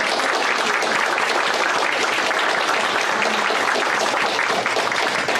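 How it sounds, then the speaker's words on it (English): Dense, steady audience applause at a Hmong cultural performance event fills the whole span as a continuous wash of many hands, with no speech over it. "how about another round of applause for Gao Song?"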